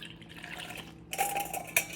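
Water poured into flour in a big mixing bowl for sourdough bread, a short soft splashing trickle with a few faint drips, close and quiet, with no voices.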